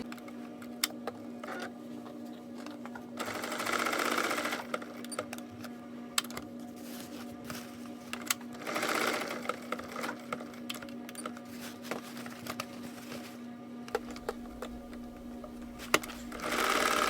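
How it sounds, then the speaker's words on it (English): A commercial Kenmore sewing machine stitches a label onto a leather and mudcloth clutch bag, with close, moderately loud bursts of rapid mechanical stitching broken by pauses full of small clicks and handling taps. "I'm going to use my commercial Kenmore machine to sew this label on."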